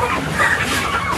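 Chickens cluck continuously at close range, a dense overlapping chatter of farm fowl with no clear pauses.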